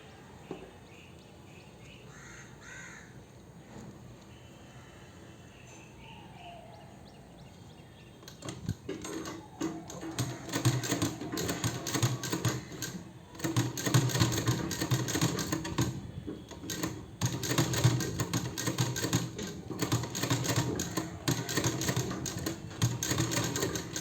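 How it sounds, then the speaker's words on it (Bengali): A sewing machine stitches a dress seam, starting after a quiet stretch with faint birdsong and then running as a busy, close, rapid clatter for the rest of the time, slowing and pausing briefly now and then. "এরকম সেলাই করে দেবো।"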